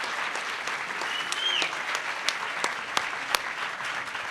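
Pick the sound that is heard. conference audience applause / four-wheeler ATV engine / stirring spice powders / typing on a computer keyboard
conference audience applause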